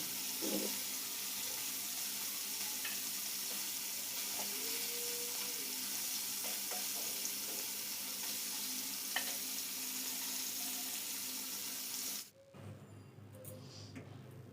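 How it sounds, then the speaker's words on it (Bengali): Bele fish frying in oil in a pan, a continuous soft hissing sizzle with faint pops, steady for about twelve seconds before it drops away abruptly to a quieter background. "মাছগুলো এখন ভেজে নেব"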